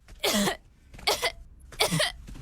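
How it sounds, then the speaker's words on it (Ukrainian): A child gives three harsh coughs one after another with short pauses between, close and fairly loud, with no talking. "Прийшла зі школи, почала кашляти."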